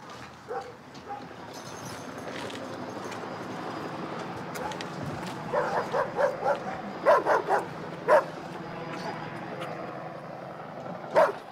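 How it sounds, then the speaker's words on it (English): Kern County Sheriff's K9 police dog barking outdoors at night during a search, a series of sharp, fairly close barks in quick bursts over a steady ambient hum, with faint talk beneath. "This is the Kern County Sheriff's Office K9 unit. Come up now. I send my dog."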